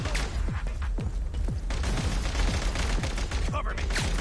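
Video game gunfire from a Genshin Impact Snezhnaya quest, with repeated sharp shots cracking through a dense, noisy battle mix and a steady wash of background din.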